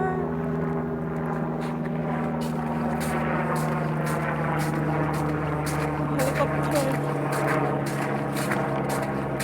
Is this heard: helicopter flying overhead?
yes